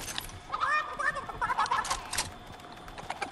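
A video game chicken clucks in short, quick bursts, close and fairly loud, during hectic multiplayer action.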